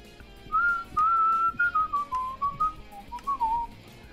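A person whistles a short, wandering tune alone, clear and close, with a string of separate notes rising and falling and short pauses between phrases.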